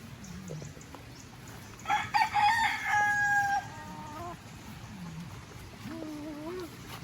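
A rooster crows once nearby, a loud rising-and-falling call, while someone speaks quietly before and after it.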